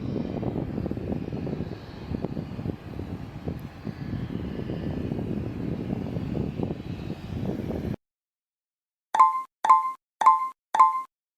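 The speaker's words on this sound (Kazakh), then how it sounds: "Иә, бұл бір моторлы ұшақ." A single-engine propeller airplane drones steadily and fairly loudly for about eight seconds, then cuts out, followed by four short plopping tones in an evenly spaced series.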